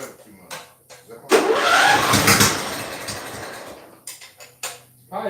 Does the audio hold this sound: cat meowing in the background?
no